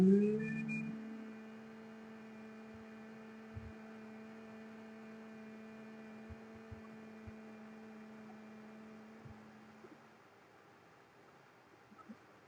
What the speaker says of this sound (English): you breathe and you do the humming bee sound like this.